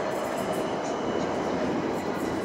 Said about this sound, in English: there's some sort of decrepit old train coming this way